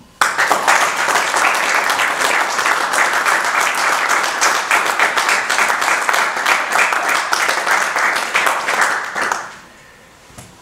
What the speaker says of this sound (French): Un grand homme qui mérite donc vos applaudissements.